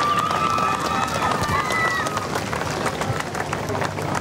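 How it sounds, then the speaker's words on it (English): A crowd applauds and cheers at a surfing awards ceremony at the Margaret River pro event in Western Australia, with a continuous wash of clapping and a few whistles, while a voice carries over the noise. "Can we get a round of applause for the women,"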